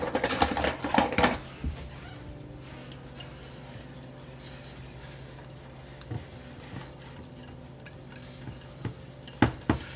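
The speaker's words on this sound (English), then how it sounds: "After all that's mixed together, just whisk." A lime cream mixture is whisked in a bowl. A burst of clattering comes first, then soft, irregular scraping and ticking taps against the bowl, close and fairly quiet, with no talking.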